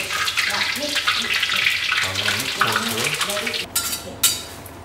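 Curry leaves frying in hot oil for nasi lemak, giving a steady, close crackling sizzle throughout, with a sharper spattering burst near the end.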